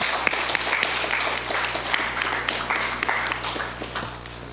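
Audience applause for a presenter at a public investing seminar, steady, fairly loud clapping from a crowd sustained throughout with individual sharp claps standing out and a slight fade at the end.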